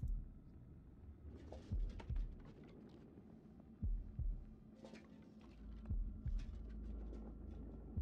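Heartbeat in the horror video game House of Ashes, a deep muffled thumping that comes in paired beats at irregular intervals over a low droning hum and faint rumbling ambience.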